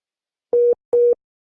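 Telephone busy signal on a poor network line, two even tones with a short silent gap between them, clear and steady with no talk over them.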